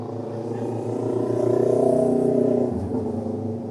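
A motorcycle engine holds a steady rumbling idle that swells slightly and then drops back, heard up close and loud with no speech over it.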